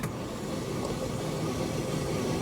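A damaged Chevy Cruze engine after overheating produces a steady, muffled rumbling drone with broadband hiss, continuous and unchanging throughout, with no voices over it.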